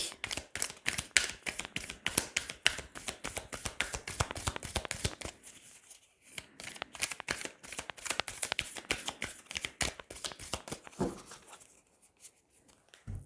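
Tarot cards shuffled by hand, a rapid run of crisp riffling flutters up close, pausing briefly partway through and then resuming before trailing off, with no talking.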